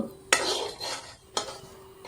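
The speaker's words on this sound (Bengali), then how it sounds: "এবার এই লঙ্কাগুলোকে গ্যাসের ফ্লেম একদম লো করে মুচমুচে করে ভেজে নেব" Dried red chilies crisping in hot oil on a low gas flame, a steady soft sizzle broken twice by sharp utensil clanks against the pan, with no voices.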